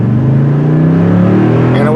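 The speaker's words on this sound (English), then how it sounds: "just smash the throttle down" 2017 Toyota Tundra TRD 4x4 truck with TRD exhaust at full throttle: a loud, close engine roar climbs steadily in pitch as the truck accelerates hard, with no break throughout.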